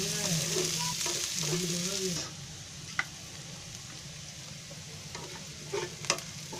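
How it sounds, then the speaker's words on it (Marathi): Onion sizzles loudly in hot oil for egg sabzi, then the frying softens as a spoon stirs and scrapes the pan with occasional clinks, while a voice talks over the early part. "आता त्याच्यामध्ये कांदा टाकते. कांदा थोडा हलवून घ्यायचा."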